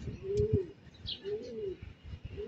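Racing pigeons cooing inside a loft, several soft, close rolling coos repeating over quiet background noise.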